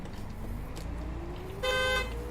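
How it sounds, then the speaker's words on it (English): In the OMSI 2 driving simulator, a Volvo B10BLE bus gives one short, loud horn blast near the end, over a steady low engine hum from close inside the vehicle. "Why is the horn so loud?"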